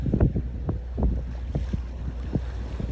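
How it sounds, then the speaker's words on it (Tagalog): Sailboats racing on open water off Puerto Galera, with steady wind rumble and faint water wash, low-pitched and continuous with soft intermittent thumps of hull or sail. "Yan, mga sailboat yan po ng Puerto Galera."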